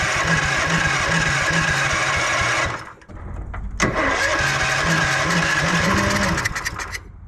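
A home-built kid-safe snowmobile engine cranks slowly and laboriously with its chain off, a steady churning run broken by a brief pause near three seconds before cranking resumes, loud and close, with no talk.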